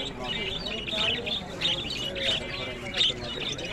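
Birds at an outdoor pigeon and bird market, including lutino and albino cockatiels, chirp and squawk repeatedly among steady crowd noise and nearby voices.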